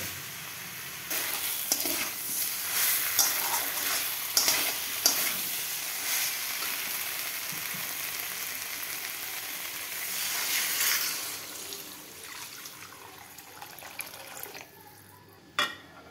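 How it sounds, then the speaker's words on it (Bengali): Water poured into a hot karahi of katla fish curry with potatoes, turmeric and salt, giving a steady rushing hiss and sizzle that rises near the end before cutting off, with a few clinks against the pan. "পরিমাণ মতো জল দিয়ে দিলাম।"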